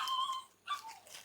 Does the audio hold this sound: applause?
no